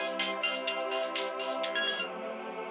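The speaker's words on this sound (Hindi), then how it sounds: "मैंने नैना को 3-4 बार कॉल किया पर उसने फोन नहीं उठाया सर" A phone ringtone plays continuously, a bright repeating electronic melody with rhythmic pulses, clear and close with no voices.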